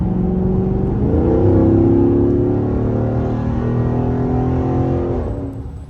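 Engine of a Dodge Challenger Scat Pack widebody, loud and steady and close up, with rising revs that hold at a higher pitch before easing off near the end; no talking.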